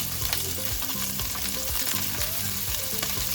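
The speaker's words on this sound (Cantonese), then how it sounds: "用猛火慢慢香佢煎咯" Frozen prawns pan-fry over high heat, giving a loud, continuous close sizzle with spattering crackles and no talking.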